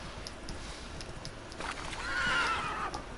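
A horse in The Witcher video game gives a brief whinny near the end, faint over soft scattered hoofbeats and steady outdoor ambience.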